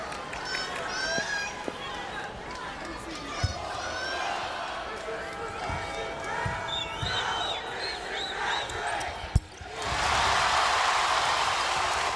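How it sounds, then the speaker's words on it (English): Women's college basketball arena crowd at a Louisville vs USF game, a continuous roar of cheering fans on their feet with squeaking sneakers and scattered thumps, swelling to a louder wash of noise near the end. "the crowd is really back in it and on its feet"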